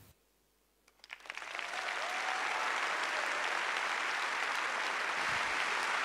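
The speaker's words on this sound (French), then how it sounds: "Cédric Hérou, sous vos applaudissements," At a political rally in France, audience applause swells from near silence within a second into loud, sustained clapping from a large crowd that holds steady to the end.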